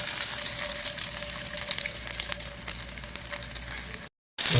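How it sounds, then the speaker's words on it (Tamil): Marinated milk fish fries in hot oil with a steady, close crackling sizzle and fine spattering pops, then cuts to a moment of silence just before the end. "ரொம்ப மீன் பொரிஞ்சிருக்கு"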